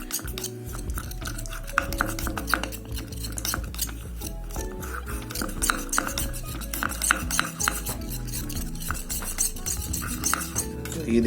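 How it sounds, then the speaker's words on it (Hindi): A spoon stirs lemon juice and honey together in a bowl, scraping and clinking against the sides in a quick, continuous rhythm that stays close and moderately loud throughout. "थोड़ा सा टाइम लगेगा मिक्स करने में, दोनों अच्छे से मिक्स हो जाते हैं।"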